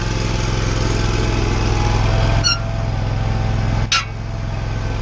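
An Exmark Lazer Z zero-turn mower engine runs steadily at close range after annual service, a loud, even drone with a couple of brief clicks partway through.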